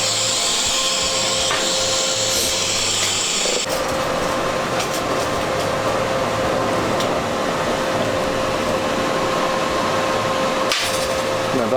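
Welding on a homemade manual transmission shifter for a Tr4050 gearbox, a loud, steady crackling hiss that runs without break, with a shift in tone partway through and no talk over it.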